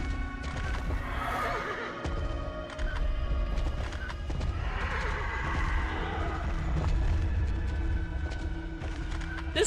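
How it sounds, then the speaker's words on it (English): In the horror video game DreadOut, a ghost horse gallops with rapid clip-clopping hooves and lets out loud whinnies and neighs over a dark, rumbling game soundscape. "There's a ghost horse."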